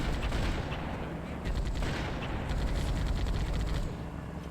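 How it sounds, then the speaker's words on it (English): Sustained gunfire in a Halo game, a dense, continuous rattle of automatic weapons and blasts layered over battle noise, loud and steady throughout with no clear pauses. "my gunners had to be firing in that direction for a full 20 seconds"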